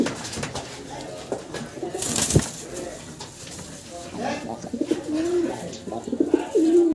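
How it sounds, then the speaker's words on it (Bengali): A pair of fancy pigeons of the sky-blue gola colour type coo repeatedly at close range, their low warbling calls rising and falling over a faint background of voices and shuffling. "এখানে দর্শক আমরা বাইরের এক জোড়া কবুতর দেখাচ্ছি"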